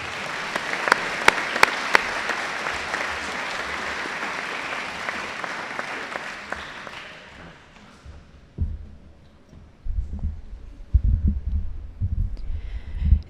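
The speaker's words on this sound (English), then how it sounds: "Could you please give Callum and Kira a round of applause?" An audience at an awards presentation claps in a sustained burst of applause lasting several seconds, then it fades out, leaving scattered knocks and shuffling room noise.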